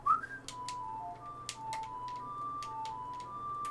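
A short ocarina melody from the Legend of Zelda: Ocarina of Time video game plays quietly, a few pure held notes stepping up and down over faint background hum, with light clicks of button presses.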